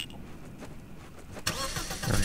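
A car engine starting in a German Afrika Korps roleplay video game: quiet rumbling ambience, then the engine abruptly cranks and catches about halfway through, rising to a loud, steady running roar.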